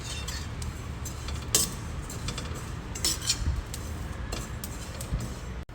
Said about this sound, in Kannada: ಜೀರಿಗೆ ಇದನ್ನು ಅಷ್ಟೇ ಲೋ ಫ್ಲೇಮಲ್ಲೇ ಹುರ್ಕೋಬೇಕು ಡ್ರೈ ರೋಸ್ಟ್ ಮಾಡ್ಕೊ